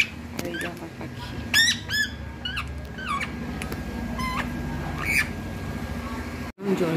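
A bird calls outside a window on a cloudy, rainy day, giving a series of sharp squawking and chirping notes in short bursts over a low background hum, fairly close and clear.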